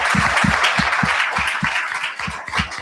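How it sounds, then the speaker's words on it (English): Audience applause at a STEM summit gathering, steady claps from many hands filling the room for about three seconds with no talk over it. "that deserves a round of applause too"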